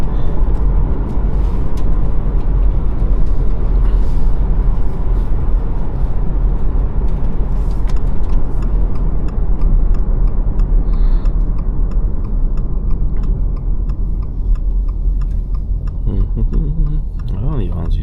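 A 2026 Subaru Crosstrek Onyx merges onto a highway, with a steady loud engine drone and road rumble filling the cabin throughout, while someone talks over it and faint ticking comes through.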